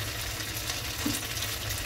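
Spoon-shaped lumps of tofu batter frying in hot oil in a home kitchen, giving a dense, steady sizzle that stays even and close throughout with no voices.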